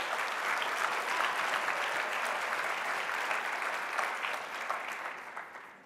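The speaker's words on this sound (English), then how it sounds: "Let's give them a round of applause" An audience at a conference in New Orleans applauds the hotel staff, a thick, continuous clatter of many hands that stays steady and then begins to taper off near the end.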